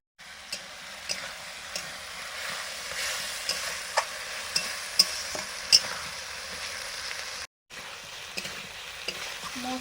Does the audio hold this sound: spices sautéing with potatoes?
yes